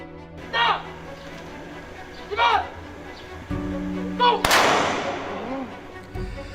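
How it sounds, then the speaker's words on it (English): A single loud gunshot from a 21-gun salute at a Special Action Force compound cracks out and echoes across an open space, with a voice speaking before and after it. "21 gunshots echo inside the Special Action Force compound Monday morning as a salute"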